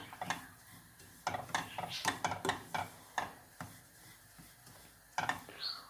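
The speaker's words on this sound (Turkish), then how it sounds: "İrmiğimize de bakalım. Kavrulmaya başladı." Semolina roasts in a pan while a spoon stirs and scrapes it in quick irregular strokes, with close metallic clinks against the pan over a quiet background.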